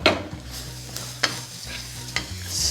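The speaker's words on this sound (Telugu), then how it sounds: "సో ఇది బాగా వేయించుకుందాం" Carrots frying in a pan for carrot rice, with a spoon stirring them several times: steady sizzling runs underneath, and scraping clatters sound close and fairly loud.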